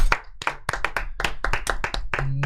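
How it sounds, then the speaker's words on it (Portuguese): Clapping at a marketing event, a run of distinct, fairly close hand claps at an uneven rhythm that continues right to the end. "E eu queria que a gente desse uma salva de palmas para nossa amiga Rosângela."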